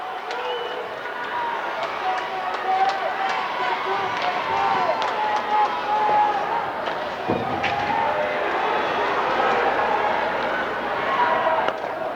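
St. Joseph's hockey crowd roaring and cheering after a goal in a high school state championship game at an indoor rink, a steady wash of noise with a commentator talking over it.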